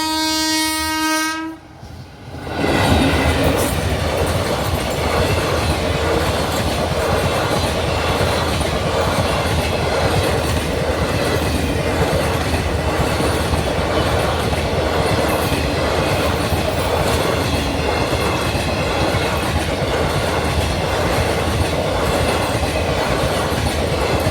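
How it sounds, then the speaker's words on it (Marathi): A train sounds a long horn and then passes close and loud, its wheels clattering over the rails in a sustained rumble that carries on throughout. "रेल्वे दिसली रेल्वेचा हा व्हिडिओ पाहतो"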